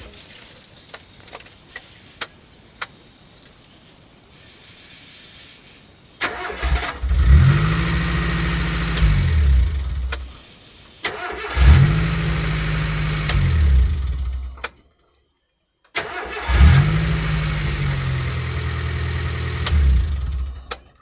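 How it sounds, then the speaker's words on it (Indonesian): A car engine cranks and starts three times after the battery's negative terminal is tightened, each start a loud close roar that idles for a few seconds and then cuts, with quiet gaps and faint clicks between attempts. "Sudah siap digunakan dan starter hidup normal."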